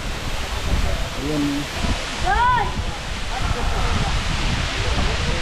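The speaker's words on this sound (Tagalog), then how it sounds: "Ito yung Balagbag Falls dito sa Real Quezon." Balagbag Falls in Real, Quezon: a steady, loud broadband rush of falling water fills the whole clip, with a voice speaking briefly over it.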